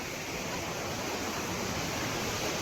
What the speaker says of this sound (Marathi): आता आपण थोडा पुढं जाऊन धबधबा बघू. छोटा धबधबा इथला